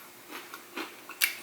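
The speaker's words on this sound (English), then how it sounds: "I don't know if you can hear that crunch." Bites into a flaky, crispy biscuit topped with grape jam, giving a few brief, close crunches spread across a quiet moment, the last one sharpest and loudest.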